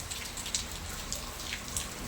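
Heavy rain falling outside a home during a festival, a faint, even wash of rainfall with scattered sharper drops tapping on a nearby surface.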